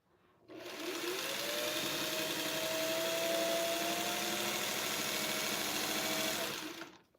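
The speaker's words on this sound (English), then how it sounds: "This machine sews slower." A sewing machine stitches a quilt, a steady, fast mechanical whirring hum that starts and stops cleanly and runs for several seconds close up, with a slight rising whine partway through and no talking.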